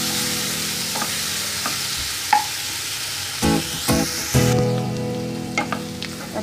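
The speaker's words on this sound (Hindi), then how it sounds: "इसको हल्का ब्राउन होने तक मैं फ्राई करूंगा।" Onions fry and sizzle in a pan for a Bengali-style pomfret curry, a steady loud hiss broken by several scraping stirs of the spoon, with no talk.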